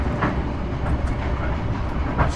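Steady rumble and rattle inside an economy-class passenger carriage on the Banyuwangi–Surabaya route, with faint rhythmic clicks of wheels on rail joints, continuous and close, no talking.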